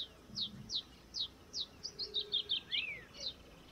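A masked yellowthroat by a marsh edge gives a quick run of high, down-slurred chips that speed up into a rapid rattling series, sharp and fairly close against a faint hiss.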